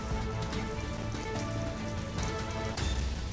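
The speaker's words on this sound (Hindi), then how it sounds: "हरिद्वार में बारिश से गर्मी से राहत मिली है" Steady rain falls in Haridwar, a dense, even patter of drops on surfaces heard up close and alone, without any voices.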